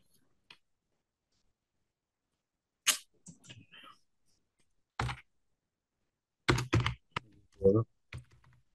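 Keys on a computer keyboard are tapped in short, scattered bursts of clicks with pauses between, fairly close and quiet, ending with a quick flurry of keystrokes.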